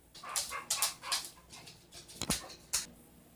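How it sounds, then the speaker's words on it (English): Dogs wanting to go outside give a series of soft, breathy whimpers and short yips, scattered irregularly across a few seconds and heard fairly faintly in a quiet room. "The dogs were tapping, wanting to go outside."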